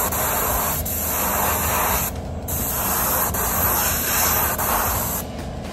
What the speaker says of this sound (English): Let's hit it again with air. Let's hit it again with the clear coat.